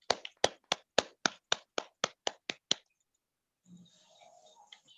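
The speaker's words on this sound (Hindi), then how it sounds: "जोरदार तालियों के साथ" Crowd clapping to welcome a speaker onto the stage at a talk event: about a dozen sharp, evenly spaced claps over nearly three seconds, then a faint, quiet room.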